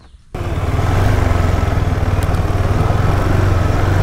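A KTM 390 Adventure motorcycle pulls away and rides, its single-cylinder engine a loud, steady, pulsing drone with strong low-end thrum throughout.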